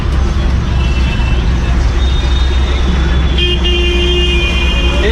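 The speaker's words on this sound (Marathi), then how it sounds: "फुल ट्रॅफिक आहे पुढे." Heavy city traffic in Mumbai heard from a crowded bus: a loud, constant roar of engines and road noise, with sustained car and bus horns honking from around the middle of the stretch onward.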